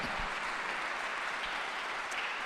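Congregation in a church clapping together for the Lord, a steady dense wash of applause filling the space throughout, with no voices standing out.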